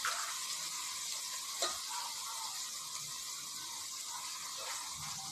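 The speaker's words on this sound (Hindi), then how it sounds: "हल्दी ऐड करेंगे, साबुत गरम मसाला ऐड करेंगे जो कि साथ ही फ्राई हो जाएगा।" Whole garam masala and turmeric fry in oil for a black chana curry, a soft steady sizzle with a faint tick or scrape here and there, heard alone.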